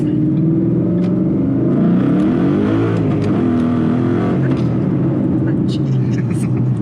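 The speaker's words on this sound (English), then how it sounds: "I'll clean up the tires a little bit there, Graham." A naturally aspirated 500hp Mustang 5.0 V8 roars and revs continuously up close, its pitch rising and falling as the tires spin.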